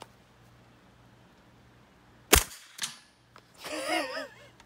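One sharp, fairly quiet crack from an OSC-13 rifle firing 5.45x39mm subsonic ammunition through a Dead Air Sandman suppressor outdoors, followed by a dull impact thud and a brief burst of reaction afterward.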